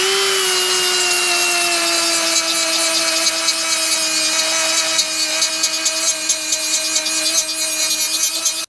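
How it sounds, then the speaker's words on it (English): Grinder gouging out the top of a weld on a snapped Harley transmission mount, a loud, steady high-pitched whine with a gritty grinding edge that roughens toward the end. "the next thing I'm gonna do is I'm gonna gouge this top out."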